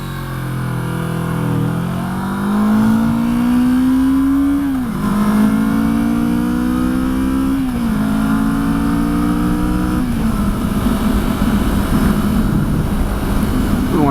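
A Vulcan motorcycle at full throttle, its engine note climbing steadily through several gears with brief dips at each shift, loud and close throughout.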